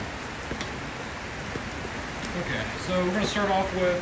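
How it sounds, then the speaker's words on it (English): Light rain patters steadily outdoors as a broadband hiss with scattered drop ticks, continuing under a man's nearby speech. "it's starting to rain a little bit"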